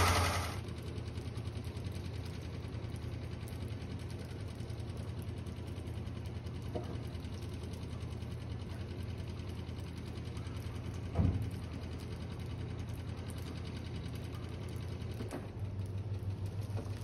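A 1969 Buick Skylark engine idling steadily as it warms up, a constant low rumble with a faint ticking rhythm, one brief louder blip near the middle.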